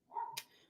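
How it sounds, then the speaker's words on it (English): A single short dog bark rings out, faint and distant, in an indoor setting with no talking around it. "But I always feel like I have to apologize for the barking."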